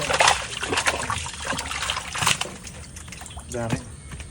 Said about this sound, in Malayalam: പൈപ്പ് വെച്ചിട്ട് ഇങ്ങനെ വെള്ളം അങ്ങോട്ട് താഴത്തേക്ക് കളിയാണ് ചെയ്യുന്നത് അപ്പോൾ ഫുള്ള് വെള്ളം നല്ല ഫോഴ്സിൽ പോകും